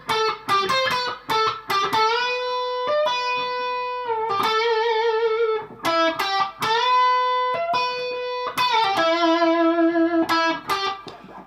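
Electric guitar with an effects unit and light distortion plays the opening phrase of the solo from a song, clear sustained notes with bends and vibrato, loud and close, played alone without talk.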